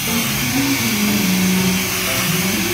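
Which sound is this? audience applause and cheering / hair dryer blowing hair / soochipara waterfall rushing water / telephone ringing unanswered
hair dryer blowing hair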